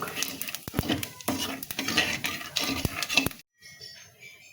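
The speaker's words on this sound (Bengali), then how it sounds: "তেলের উপর একটু জিরে দিয়ে দিলাম জিরেটা একটু পোড়া হোক" Cumin seeds sizzling in hot oil in a pan, a busy crackling fry with stirring scrapes and sharp utensil knocks against the pan, close up, then dropping to a quieter low sizzle.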